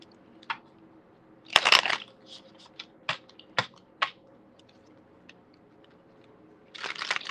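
A deck of tarot cards being shuffled by hand during a live psychic reading, heard as a close burst of crisp riffling, then scattered sharp taps and flicks, and a final soft flurry of card rustling, with no talk.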